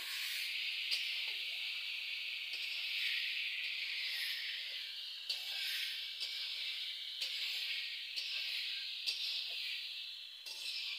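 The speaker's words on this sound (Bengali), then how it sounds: "এই যে মাংসটা এখন দিয়ে দেবো" Meat added to a pan of fried potatoes sizzles in a steady, faint hiss with small clinks, cooked outdoors at night picnic-style.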